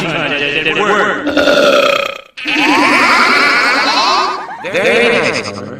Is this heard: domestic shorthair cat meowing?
no